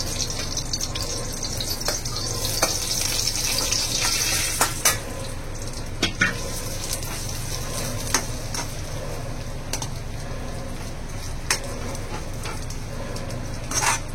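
Grated coconut roasting in ghee in a pan, filling for a Gauri Ganpati festive sweet, gives a steady close sizzle with scraping stir strokes and occasional sharp clicks of the spoon against the pan.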